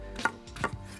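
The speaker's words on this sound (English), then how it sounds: "Okay, one more little chopping action." A knife chops twice through mango on a cutting board in a restaurant-style kitchen, two sharp thuds about half a second apart, close and clear with no talk.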